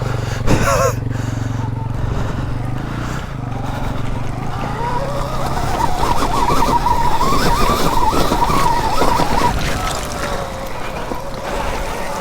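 A Stark Varg electric dirt bike rides off-road on an enduro trail, its motor whining and rising in pitch as it accelerates, with tyres scrabbling over dirt and wind noise. The whine is continuous and fairly close.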